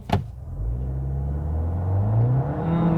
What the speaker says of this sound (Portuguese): Vou fazer uma arrancada aqui parado, não vou encher o motor